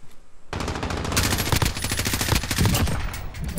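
Sustained rapid automatic gunfire in a video game, bursting in loudly after a brief quiet moment and continuing as a dense stream of sharp shots for a few seconds, close and without talk.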